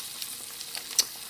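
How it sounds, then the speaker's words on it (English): Bread frying in butter in a pan for eggy in a basket, giving a faint, steady sizzle with soft crackles and one slightly sharper pop near the end. "I'm going to take our bread. Sizzle, sizzle, sizzle."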